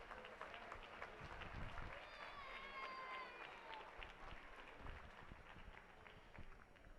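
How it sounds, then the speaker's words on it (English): Applause from guests at a county fair VIP reception honoring sponsors, a steady wash of clapping and crowd noise with some voices mixed in throughout. "Let's give them all a great round of applause as well."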